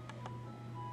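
Home phone keypad dialing tones: a few short faint beeps over a low background hum, heard alone.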